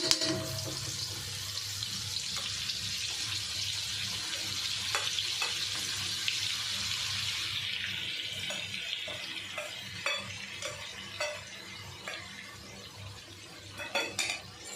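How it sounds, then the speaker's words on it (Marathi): A thick paste of coriander, green chilli and garlic frying in hot oil, a loud steady sizzle that fades into scattered crackles and spatters as it is stirred, with no talk. "तेल गरम झालं आहे आपण कोथिंबीर हिरवी मिरची आणि लसूण यांची जाडसर पेस्ट बनवली आहे ना ती टाकून घेऊया"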